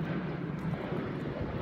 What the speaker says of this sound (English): there's a plane flying over my head